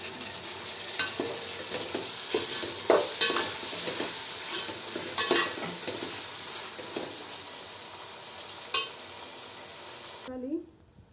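Ginger garlic paste sizzles in a pan for Ambur-style mutton biryani while a spoon stirs it, making repeated scraping clacks over a continuous frying hiss that ends with a sudden stop.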